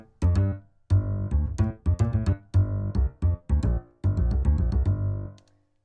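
Bass line doubled by piano in its low register within a big band arrangement of a song, heard as punchy, rhythmic low notes in short phrases with brief gaps between groups.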